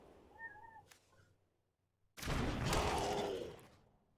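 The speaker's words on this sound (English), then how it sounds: "Hello, baby cat." A young pet cat meows softly twice. After a short pause comes a loud, broad burst of noise lasting over a second.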